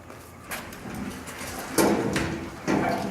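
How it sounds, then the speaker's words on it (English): The sheet-metal door of a home-made burn-out kiln lined with ceramic shell insulation opens with a few close metallic clunks and scrapes, three distinct bursts over a quiet background. "Let me open the door."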